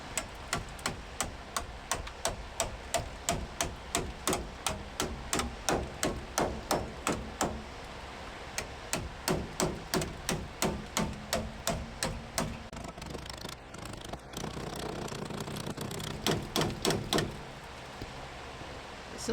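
A hammer steadily taps a welded steel windshield channel on a 1979 Pontiac Bonneville Safari Wagon. Dozens of quick, evenly spaced metallic strikes ring out close by, then give way to a duller scraping stretch before a few final taps.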